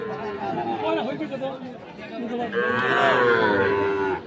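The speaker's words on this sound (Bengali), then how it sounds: "দেখছেন গরু বেরোচ্ছে।" Shahiwal bulls and calves at the Ambari cattle market, with moos and lowing rising over a steady crowd murmur and nearby voices bargaining throughout.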